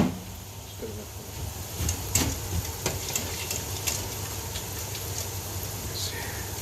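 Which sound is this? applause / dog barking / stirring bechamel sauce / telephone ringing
stirring bechamel sauce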